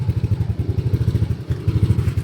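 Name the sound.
Yamaha Aerox V3 motorcycle engine idling with bolt-on pipe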